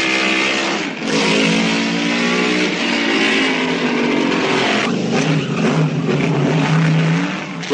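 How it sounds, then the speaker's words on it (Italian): A 1955 Ferrari V8 racing car derived from the Lancia, at Monaco, revs loudly and continuously nearby with a rising and falling engine note and a brief dip around one second. "Questa è la Ferrari 2005 8 cilindri a V derivato dalla Lancia."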